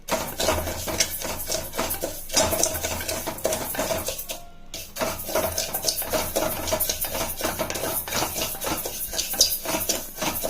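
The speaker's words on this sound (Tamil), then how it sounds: "அதுக்கு நான் பச்சை அரிசி கொஞ்சமாக போட்டு நல்லா செவுக்க வறுத்துக்கலாம் ஃப்ரெண்ட்ஸ்" Raw rice dry-roasting in a pan for laddus, with a spoon scraping and stirring in a steady, busy rattle of grains and metal, close and fairly loud and broken by one short pause.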